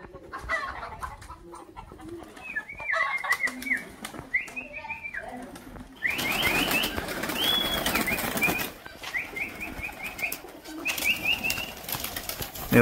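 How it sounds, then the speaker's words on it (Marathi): Pigeons in a rural field, more than fifteen of them, with a hen among them, give repeated short calls and bursts of wing flapping over steady outdoor background noise, fairly close and moderately loud. "किती कबूतर आहेत बघा, जवळजवळ 15 पेक्षा पण जास्त कबूतर आहेत."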